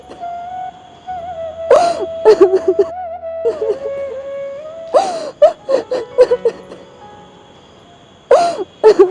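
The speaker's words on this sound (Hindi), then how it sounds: "किसी के रोने की आवाज़ आ रही है वहाँ से" Someone cries and whimpers in short, shaky sobbing bursts at moderate loudness, with quiet gaps between them, over a steady droning tone that runs through most of the scene.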